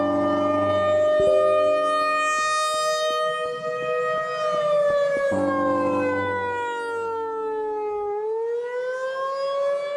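A tornado siren in a game map, modeled on a Federal Signal unit, wails loud and alone, a harmonic tone that holds, dips and slides back up over ten seconds, with a low mechanical rumble beneath.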